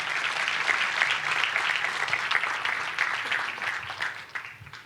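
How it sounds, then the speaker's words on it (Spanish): A church congregation applauds during a Spanish-language sermon, a sustained wash of many hands clapping at moderate volume that holds steady for about five seconds, with no voices over it. "denme un aplauso, por favor."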